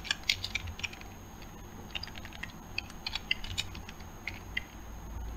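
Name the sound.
typing code on a computer keyboard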